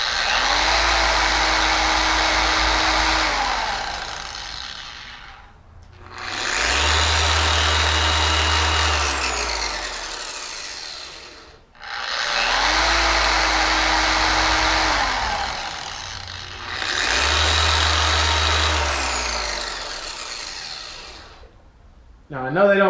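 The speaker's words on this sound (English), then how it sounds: "I know they don't recommend turning the polisher on when it's not on the paint" A Maxshine M15 Pro and a Griot's Garage G9 car polisher, both set to speed 4 and spinning freely off the paint, give off a steady loud motor whir that rises and cuts out in four long runs of about five seconds each.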